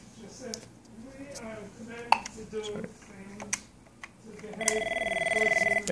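An Avaya IP Office 9500 desk phone at a transfer extension rings with a steady electronic tone in the last second or so, after a stretch of people talking and small handling clicks.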